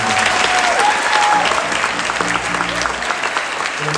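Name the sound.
audience applauding musicians at school spring concert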